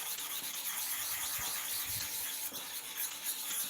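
A clipper blade scrapes steadily back and forth across a sharpening stone, a close, continuous gritty rubbing with faint rhythmic strokes and no voices.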